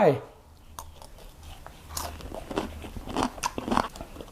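Someone bites into a crunchy fried enoki mushroom fritter topped with cucumber relish, making close crisp crunches and chewing sounds, with soft voices in the background.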